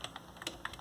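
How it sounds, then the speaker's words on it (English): A command is typed into a terminal on a Lenovo G50-80 laptop keyboard, with a quick run of about five soft, close key clicks in under a second and no talk. "the first thing we have to type is diskutil"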